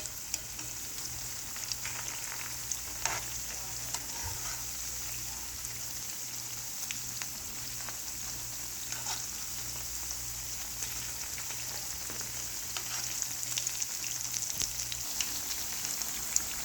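Piyaju, Bangladeshi onion fritters, fry in a pan of oil, giving a continuous dense sizzle with scattered pops and crackles, close and steady with no talking.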